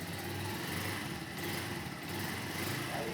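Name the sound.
motorcycle engine running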